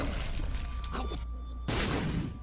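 In-game explosions from mushrooms erupt in The Binding of Isaac: Rebirth, a broad noisy burst rising over the steady game music and effects partway through.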